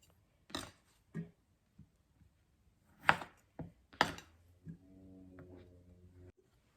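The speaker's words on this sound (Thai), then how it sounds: "ก็จะมีเห็ดหอมสดนะคะ ก็หั่นตามชอบนะคะ หั่นเห็ดนะคะ" A knife chops fresh shiitake mushrooms on a board in a home kitchen while a Thai stir-fried glass noodle dish with bacon is being prepared. Several sparse, faint, uneven cuts are followed by a soft, steady hum.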